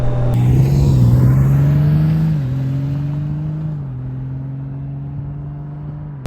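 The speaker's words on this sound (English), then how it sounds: "anybody that doesn't think this Goldwing can keep up, this is a fast touring bike." A 2024 Honda Goldwing Tour DCT touring motorcycle accelerates hard through several smooth automatic gear shifts, its engine tone rising, dropping at each shift, then holding steady as it pulls away, loud and close with no talking.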